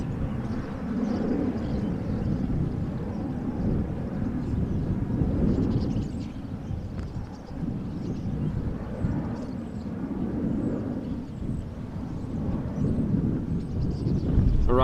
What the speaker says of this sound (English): Also a 737 taking off from center.